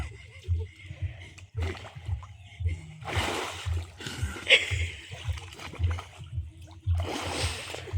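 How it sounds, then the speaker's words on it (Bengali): A person dips into pond water, making repeated splashes and sloshes close by. Low rumbling rhythmic noise runs underneath and voices are heard. "এই যে আমি এখন ডুব দিচ্ছি প্রথম ডুব স্টার্ট"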